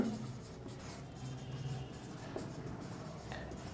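Writing on a board during a classroom grammar lesson, quiet scratchy strokes come in short irregular bursts at low volume, with no talking.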